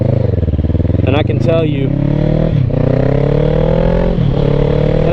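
A motorcycle rolling on new tires in daylight, its engine droning loud and steady at close range with wind rush, while a rider talks over it throughout.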